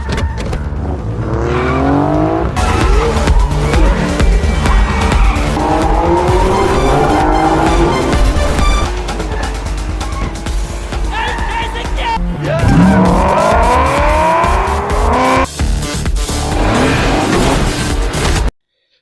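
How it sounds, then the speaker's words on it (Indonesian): High-speed car chase with several cars racing, engines roaring and revving continuously and loudly, with tires squealing and skidding throughout, a dense, busy mix that stays up close for the whole stretch. "Eun-ha segera menginjak gas dan memacu mobilnya dengan kecepatan maksimal."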